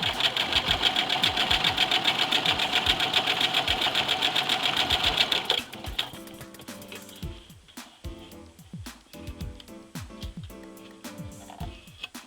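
A sewing machine stitches the hem of a dress shirt, running in a loud, rapid, even whir for about five seconds. Then it slows into scattered ticks, clicks and handling noises with a quieter hum.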